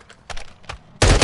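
Short burst from a gun in Modern Warfare 2 multiplayer: a few spaced, moderately loud shots, then a sudden loud, close rapid volley at the end.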